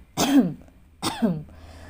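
Two short throat clearings, one after the other with a brief pause between, close and fairly loud, with no talking.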